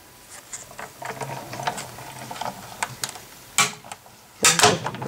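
A Sizzix Big Shot die-cutting machine is hand-cranked as it cuts, giving close, irregular clicking and ratcheting gear sounds with a few sharper loud cracks near the end.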